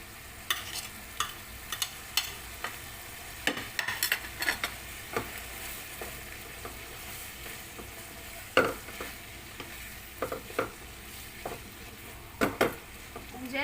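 Beef mince and tomato for aloo keema stirred in a pan, a faint steady sizzle under repeated scraping clicks of a spoon against the pan in irregular bursts.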